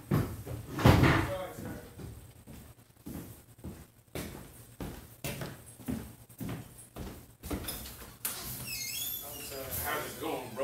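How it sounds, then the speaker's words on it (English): Someone opens a door, with a couple of solid knocks and thuds from the door and its frame. People talk throughout, and the sounds come close and moderately loud. "I have to answer the door."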